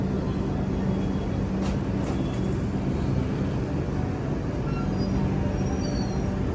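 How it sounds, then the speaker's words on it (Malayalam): Passenger train at Perambur station starting to move, a steady dense rumble with rolling low-end noise throughout, continuous and fairly loud with no talk. "നമ്മളെ ട്രെയിൻ എടുത്തു"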